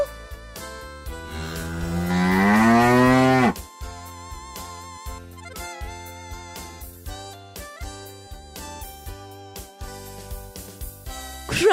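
A cow gives one long, loud moo that swells and falls over about three seconds, followed by a bright, jingly children's tune of music.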